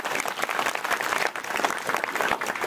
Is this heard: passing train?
no